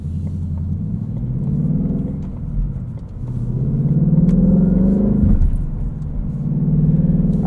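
2020 Ford Mustang GT Convertible Performance Pack with a six-speed manual, its V8 revving hard through the gears: a loud, close rumble rising in pitch three times with brief dips at shifts, no voices.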